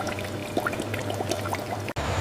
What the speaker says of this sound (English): The vapor condenses back into liquid form, flowing out as a mixture of water and precious crude peppermint oil.